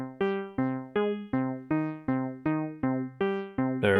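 Two Elektron sequencer tracks play the same eight-note synth sequence in time, giving evenly spaced plucked tones that decay quickly, close and clean, with no voices.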